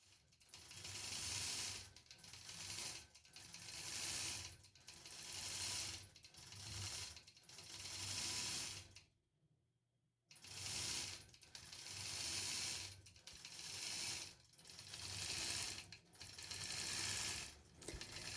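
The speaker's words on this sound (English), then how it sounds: "This is done using my Gamel Statler stitcher." A Gammill Statler Stitcher computerized longarm quilting machine stitches a quilt with a steady mechanical whir and rapid ratcheting clatter, running in repeated bursts of about two seconds with a brief pause near the middle.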